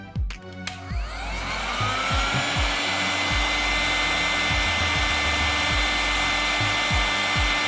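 A hot air blower fitted with a nozzle adapter blasts a screw on a Lacroix, starting with a few clicks and then settling into a loud, continuous rushing whine that holds steady throughout.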